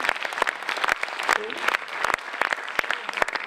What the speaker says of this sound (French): Là, il y a Pascal Lajoie, Mathieu Debord, que vous pouvez applaudir hyper fort.